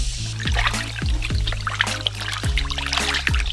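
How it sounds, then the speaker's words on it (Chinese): Water from a tap runs steadily into a basin or bowl while live loaches are rinsed, with splashing and sloshing spread through the clip, close and fairly loud. "先把泥鳅洗一下。"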